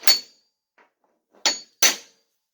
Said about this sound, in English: you are going to take a center punch and you're going to center punch that